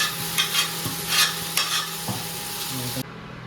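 Fatty, well-marbled beef that was heated beforehand hits a hot pan for a Kerala-style kappa and beef curry, giving a steady close sizzle and frying hiss with a few stirring scrapes, then cutting off abruptly near the end.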